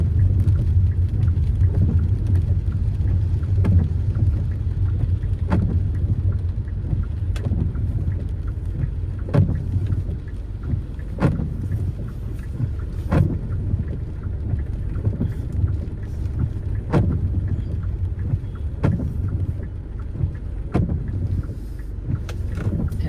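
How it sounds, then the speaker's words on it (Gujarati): Steady rain falling at a bus depot in Bodeli, a broad continuous wash of rainfall with scattered sharper drips and knocks recurring every second or two, no talking. "અહીંયા પણ ફૂલ વરસાદ છે કારણ કે બધું સવારથી પાંચ છ વાગ્યાથી વરસાદ ધીમી ધારે ચાલુ છે"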